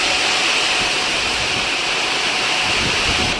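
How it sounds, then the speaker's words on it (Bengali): Torrential rain driven by strong wind in Bamangachhi, a dense steady roar of broadband noise filling the whole stretch, loud and close with no pauses. "মানে মুষলধারা বৃষ্টি।"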